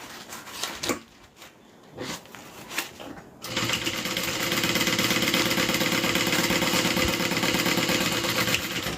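Some soft handling taps and knocks come first, then a sewing machine runs in one long continuous, steady, close whirring burst while sewing train case top pieces together.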